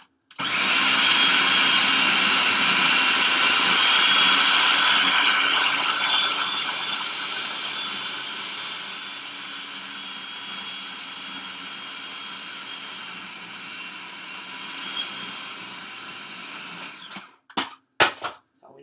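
A blender purees dates and peanut butter with a loud, steady whirring roar that gradually softens in pitch and level, then stops, followed by a few sharp clicks and knocks.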